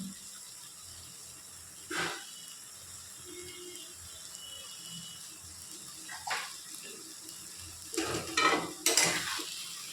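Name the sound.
stirring sugar into frying okra in a pan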